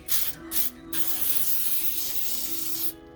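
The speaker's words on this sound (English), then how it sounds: "butter spray" Butter cooking spray hisses onto a cookie sheet in two short close bursts and then one long steady spray of nearly two seconds, ahead of a meal of honey chicken, potatoes and onions.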